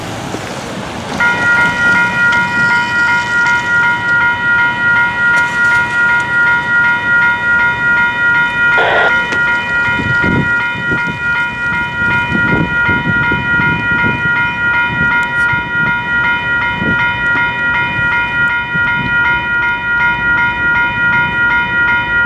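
Four locomotives running light in a power move at Leaside roll past with a steady, loud engine drone and sustained tonal hum, a brief sharp accent midway, and rumbling wheel noise continuing throughout without speech.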